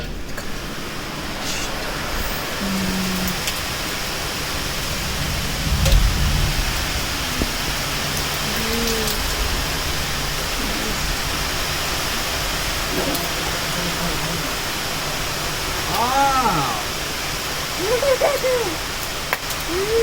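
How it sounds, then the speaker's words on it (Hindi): Heavy overnight rain in Nagpur pours as a steady, dense broadband hiss that fills the whole stretch, with faint distant voices and scattered background noises beneath it. "बहुत समय के बाद ऐसी बारिश मैंने अपने आँख से देखी, रात को हुई थी।"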